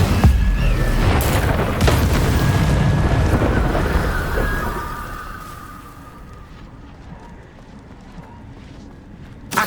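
The Incendio fire spell cast in the Hogwarts Legacy video game: a loud whooshing fiery burst with a booming rumble that sustains for several seconds, then fades into quieter game ambience with a faint tonal ring.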